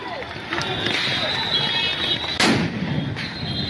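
Sound grenades thrown at protesters at Dhanmondi 32, a loud sharp blast standing out midway through a dense, noisy street scene of crowd commotion and shouting.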